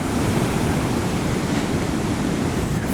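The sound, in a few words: ocean surf waves breaking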